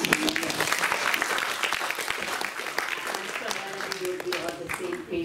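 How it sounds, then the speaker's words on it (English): An audience at a corporate gender diversity and inclusion faculty program claps for a panel of women, a dense, steady round of applause that fills the room, with a voice speaking over it. "To give them a clap."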